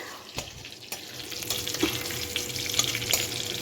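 A spice tempering (phoron) fries in a pan as the base for a Bengali pui shak ghonto. The close, steady sizzle crackles throughout, with occasional clinks and stirring scrapes.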